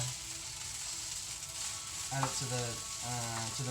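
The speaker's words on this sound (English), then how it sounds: "frying an egg is a great source of protein" Oil sizzles steadily in a hot pan as an egg fries, with a few brief scraping and clinking sounds toward the end.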